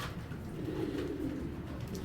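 A large pair of Giribaz pigeons coo softly and continuously at close range, a low rolling murmur with no voices.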